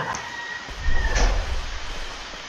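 A door slides open in the video game MiSide, a low rumbling swell with a faint mechanical whine, moderately loud and heard alone without talk.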